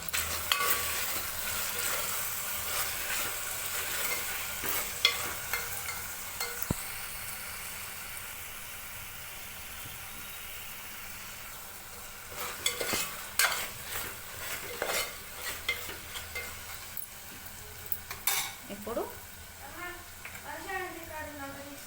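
Tomatoes cooking down in a pan for egg biryani, a continuous soft sizzle with scraping and clinking stirs that grow busier later, while a person talks over it.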